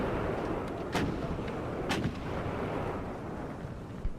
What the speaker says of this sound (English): the row of howitzers hidden behind some nearby earthworks thundered, one after another, for almost a minute straight